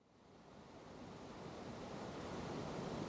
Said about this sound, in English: the sound you're hearing right now is the sound of the river